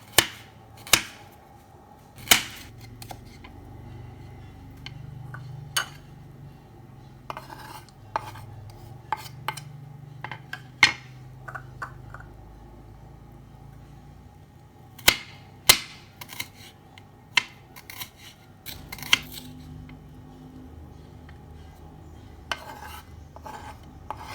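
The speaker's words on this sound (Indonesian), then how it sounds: "Kemudian, potong bawang putih dan bawang merah menjadi kecil-kecil." Knife chopping garlic and shallots on a cutting board in a home kitchen, sharp irregular taps and thuds scattered throughout, some loud close strikes between quieter cuts over a faint steady background hum.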